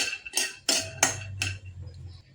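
Makhana with cashews and almonds being lightly roasted in a pan, heard as a few distinct clinks and scrapes of a utensil against the pan spaced out over the clip, followed by a faint low hum.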